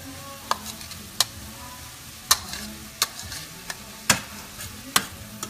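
Chopped shallots sizzling and being stirred in a hot pan of Chardonnay butter, a steady frying hiss broken by sharp scraping taps of the utensil every second or so, with no talking.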